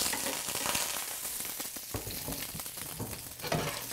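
Garlic hits hot oil in a pan for a pork and pineapple stir fry, producing a loud, dense sizzle with scattered crackles and spits that stays strong for the whole short stretch.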